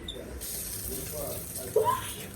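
Shower water runs in a steady hiss indoors, with a brief splash and louder burst partway through and a voice speaking faintly over it.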